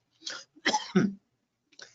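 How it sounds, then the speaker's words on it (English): A short burst of close, dry coughs, two or three harsh hacks in a row, then a softer one after a pause. "I have to get a cough right when I start"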